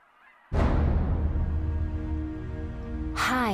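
Geese honk loudly and continuously at close range, a dense chorus of calls that starts abruptly and holds, with a sharper burst near the end.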